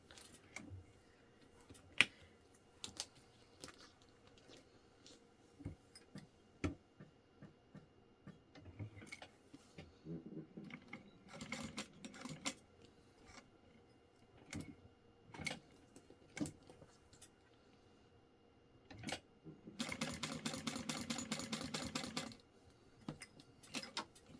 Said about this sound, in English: Alright, so I'm gonna stitch that on.